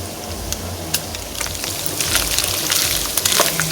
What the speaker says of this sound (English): Once you add the pasta, you need to stir it so that the noodles don't stick together.